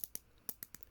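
A cheap dollar-store zip tie ratchets shut with a run of about six faint, sharp clicks at uneven intervals in a quiet room.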